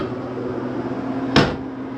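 A camper's microwave oven door comes open with a single short clunk and latch click over a steady humming background.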